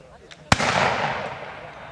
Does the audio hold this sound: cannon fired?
yes